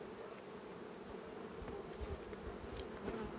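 Bees buzz at a hive in a faint, continuous hum with a steady drone, and a few individual bees fly past close by.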